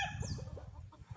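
A game-farm rooster clucks in a short run of soft, close calls, with a brief higher rising call near the start.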